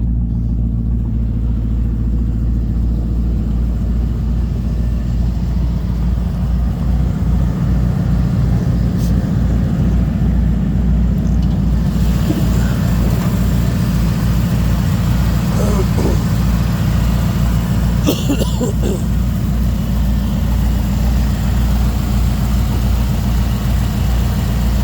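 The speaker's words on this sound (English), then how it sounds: "Well, clutch fan sure does throw the fucking air." A car engine idles steadily after a cold start, its clutch fan running with a loud, constant low roar and whoosh of air throughout, with occasional faint clicks on top.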